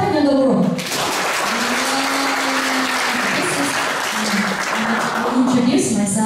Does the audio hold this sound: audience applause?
yes